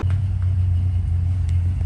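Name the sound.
car engine running in a garage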